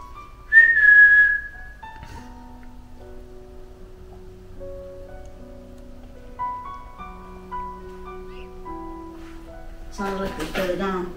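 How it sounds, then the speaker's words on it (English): A short, shrill whistle stands out at the start, followed by a long stretch of quiet sustained tones and a rustling burst near the end. "I heard a whistle."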